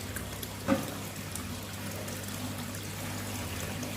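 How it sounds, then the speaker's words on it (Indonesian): Water spilling from a tube filter back into a koi quarantine pond, a steady close splashing trickle with a low pump hum underneath and one brief knock early on. "nah berhasil, airnya terjun lagi di situ ya"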